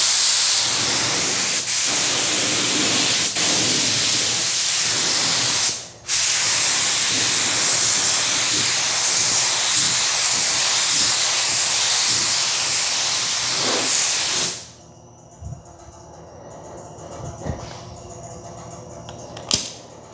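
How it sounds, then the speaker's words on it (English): A spray gun sprays 2K epoxy primer onto a sheet metal panel, a continuous loud hiss for about fourteen seconds with one brief pause, then cuts off, leaving faint clicks and quiet background. "we're just gonna spray this piece out and walk away"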